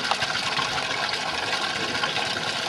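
Hot spring water at Chengdu flowing steadily in a dense, continuous rushing wash, close and fairly loud with no voices.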